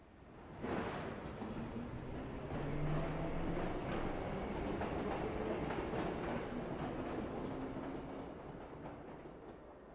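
A train rolls past in the video game Assassin's Creed 3, its rumbling clatter rising quickly, holding loud with rhythmic wheel clicks, then slowly fading away.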